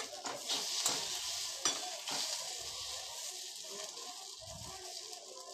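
Rui fish roe mixture sizzling and frying in a pan as it is flipped, with a steady hiss and a few clinks and scrapes of a utensil against metal, no talk.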